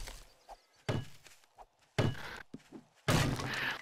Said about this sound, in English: as I break in with a fire axe